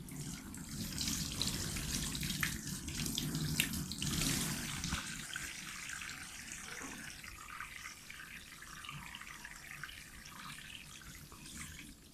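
Tap water runs steadily into a sink while a face is washed, a close continuous rushing splash lasting twelve seconds, slightly louder in the first few seconds.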